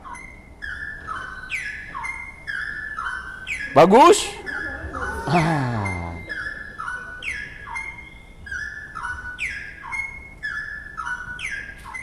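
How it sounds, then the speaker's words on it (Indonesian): A recorded cucak rowo bird song plays back as a run of repeated, bright whistled phrases at a steady pace. A voice briefly cuts in near the middle. "Kita dengar suara cicak rowo di sini."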